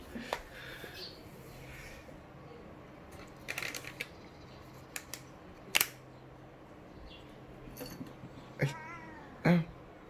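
Pet cat meowing and crying several times in a quiet indoor room, with occasional rustling and clicking sounds, while someone talks softly at times.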